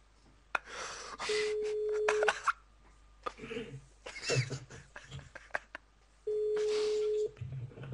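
A telephone call being placed, with two steady electronic tone bursts, each about a second long and separated by a pause, mixed with clicks and faint background talk.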